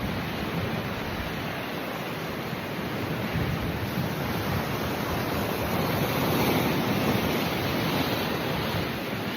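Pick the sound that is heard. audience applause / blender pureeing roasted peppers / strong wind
strong wind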